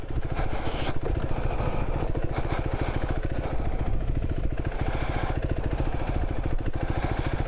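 A motorbike engine labours up a very steep hill, a loud, close, steady throbbing chug that holds at low revs for the whole stretch.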